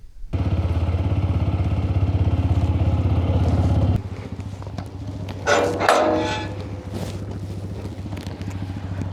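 A motorcycle engine running steadily before a road trip to Ambur, a loud, even, throbbing drone that drops in level halfway through, with brief clattering and rising revs afterward.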